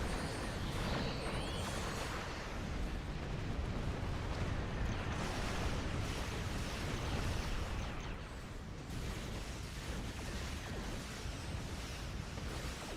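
Torpedoes launching and exploding in the Star Trek Online video game, a dense continuous roar of rumbling blasts and bursts that fills the scene loudly with no talk.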